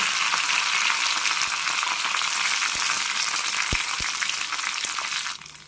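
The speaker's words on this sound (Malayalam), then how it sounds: "രണ്ട് ടേബിൾ സ്പൂൺ എണ്ണ എടുത്തിട്ടുണ്ട് ഇതിലേക്ക് കടുക് ഇടാം കറിവേപ്പിലിടാം ചോന്നമുളക്" Mustard seeds, curry leaves and red chillies frying in two tablespoons of oil, a dense crackling sizzle with a few sharp pops, fading abruptly at the very end.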